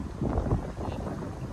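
Strong wind roaring across the microphone during a motorbike ride from Kandy to Bellwood, a steady low rumbling buffet that fills the whole stretch without letup.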